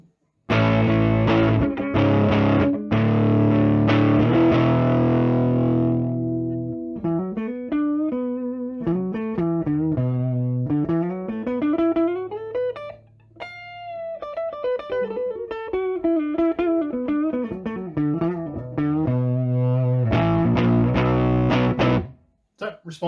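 Electric guitar played through a Tone Americana Evil Robot tube amp with the gain maxed, giving a loud, overdriven tone. Chords ring out first, then a run of single-note melodic lines, and sustained chords return at the end.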